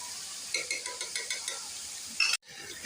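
Onion and garlic fry in hot oil in a pan for a chana dal and chicken curry, with a steady run of spatula strokes and taps over a soft sizzle, fairly quiet and close, ending in a brief cut.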